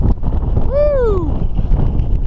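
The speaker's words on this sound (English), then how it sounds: "I'm going to find a spot out of this wind" Strong wind buffeting the microphone on an exposed hilltop, a steady low rumbling roar across the whole stretch, with a brief vocal whoop rising out of it.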